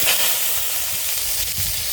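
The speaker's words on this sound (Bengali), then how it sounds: "এবার ধুয়ে রাখা কাঁকড়াগুলো দেবো।" Washed crabs hit hot mustard oil seasoned with a dried chilli and mustard seeds, giving a loud, steady sizzle and hiss of frying that carries on unbroken throughout.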